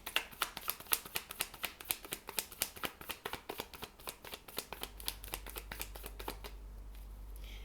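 Tarot cards being shuffled, a fast run of crisp riffling flicks in steady rhythm, close and loud, ending in a low hum with no talking.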